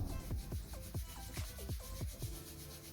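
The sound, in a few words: hands rubbed together vigorously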